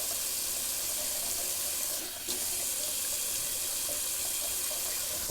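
Semi-cold water runs steadily from a bathroom tap into a sink, a loud, close, continuous hiss with only a brief dip in the flow partway through.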